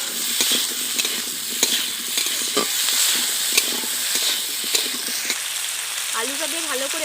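Potatoes stir-fried in a pan with softened tomato for a Bengali parshe fish and brinjal curry, steady sizzling and frying hiss with spatula scrapes, a voice briefly heard near the end.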